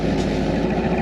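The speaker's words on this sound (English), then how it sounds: "go and listen to how smoothly the exhaust sounds" Exhaust of a 2000 Ford F250 with the 5.4 liter engine, idling smoothly and steadily with a dense, continuous low rumble and no popping, close and loud throughout.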